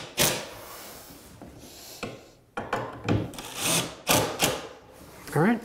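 Construction screws are driven into wooden flooring during a floor renovation, heard as a series of short, gritty driving bursts with pauses between them, close by, and a brief voice near the end.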